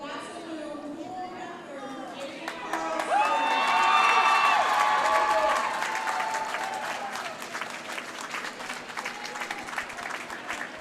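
A crowd at a boys high school swim meet, Moorhead versus Thief River Falls, breaks into loud cheering and applause that swells to a peak and then settles into sustained clapping and shouting from teammates and spectators, with talk mixed in.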